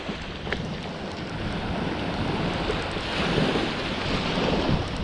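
Waves surge and wash onto a beach in a steady, broadband roar, mixed with gusty wind buffeting the microphone, rising slightly toward the end with no voices.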